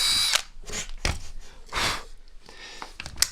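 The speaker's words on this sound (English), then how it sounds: "drill a small pilot hole in that cavity" A power drill whirs in short bursts of varying length, close by, with brief pauses between runs, drilling a small pilot hole with a dull, bent bit on a two-stroke dirt bike.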